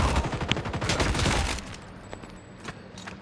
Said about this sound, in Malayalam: സർജൻ കുഞ്ഞുഞ്ഞിനാണ് താങ്കൾ വെടിവെക്കുന്നത്.